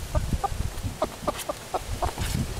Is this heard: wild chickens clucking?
yes